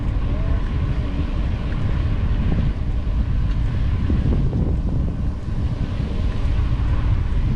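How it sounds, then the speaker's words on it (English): Strong, steady wind roars across the microphone on a bike trail in the Lower Florida Keys near the coast, a continuous low buffeting rumble that stays loud throughout with no pauses. "And it's windy today,"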